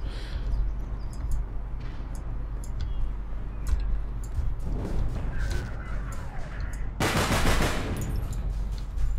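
Rapid gunfire in a video game crackles in bursts over a low rumbling background, building to a loud, dense blast near the end as a car is shot and explodes.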